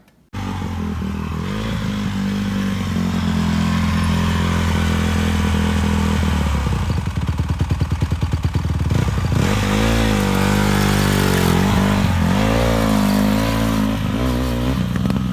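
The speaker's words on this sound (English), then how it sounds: "If you guys are wondering what that like rattling noise is on his bike, the chain was really loose" A dirt bike with a loose chain runs steadily and loudly, the engine droning and revving throughout, with a metallic rattling clatter riding on the engine noise.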